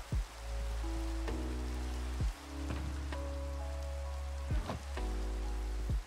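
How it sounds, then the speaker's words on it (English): Steady rain hiss in the Minecraft video game, constant and moderately loud. Held musical tones play over it, with a few soft thuds. "Who ordered the rain?"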